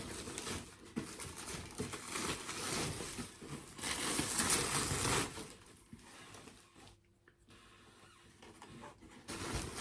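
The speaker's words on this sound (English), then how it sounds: "I'll bring this around so you can see me getting it out of the packaging." A Samsung LS32D39xG monitor is pulled from its packaging with loud, close crinkling and rustling of plastic and wrap in irregular bursts, easing briefly near the end before picking up again.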